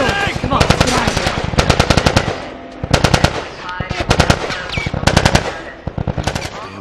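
Soldiers fire at Fireflies in The Last of Us: loud, close bursts of automatic gunfire in rapid rattling volleys, broken by brief pauses.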